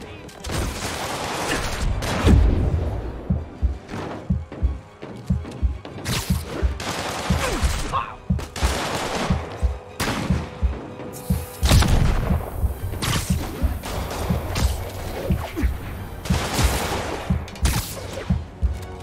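Rapid sniper gunfire in the Spider-Man video game, with repeated sharp shots and booming impacts fired in quick bursts over a dense, loud game soundtrack, some voices mixed in.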